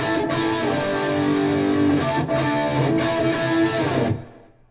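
Electric guitar through an 80s crunch preset on a Line 6 HX Stomp, with some reverb and a little delay: continuous overdriven chords with a few picked accents, loud and steady, then a fading tail at the end.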